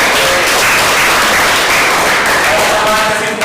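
A classroom group applauds during a chemistry lesson presentation, steady dense clapping that fills the room loudly throughout, with voices mixed in underneath.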